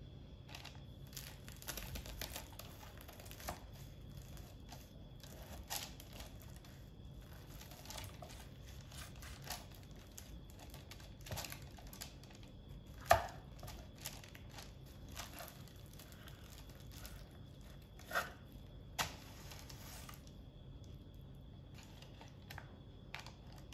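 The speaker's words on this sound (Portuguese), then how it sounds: "E aí agora eu vou cortar para vocês escutarem a crocância." A knife cuts through the crispy puff pastry of a salmon Wellington, giving faint, irregular crackling crunches and small crisp snaps spread across the cut, with no talking.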